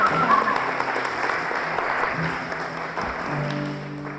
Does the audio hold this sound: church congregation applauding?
yes